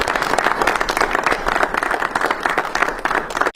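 Steady, dense audience applause throughout a stand-up comedy show, loud and close, with scattered cheers mixed into the clapping before it cuts off sharply at the end.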